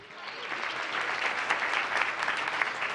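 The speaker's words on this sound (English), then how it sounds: "Please join me in giving Group 1 another big round of applause." Sustained audience applause at a town council meeting fills the room evenly, a dense, steady clapping that swells slightly and continues without pause; no voices stand out.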